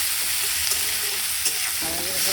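Onions frying in a pan after nigella seeds go into hot oil, for a Bengali fish curry: a steady, close sizzle with stirring scrapes, alone with no talk.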